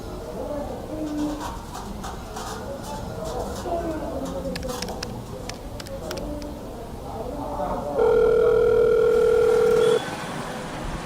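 A telephone dial tone sounds while a phone call is being placed: a steady, loud, unbroken tone lasting about two seconds. It comes after a stretch of background voices and faint bird-like coos.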